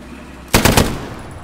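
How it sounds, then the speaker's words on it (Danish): A short close burst of automatic gunfire in the World War II shooter video game Hell Let Loose, three or four quick loud shots that ring out briefly, with no talking. "Så sigter man, skyder man."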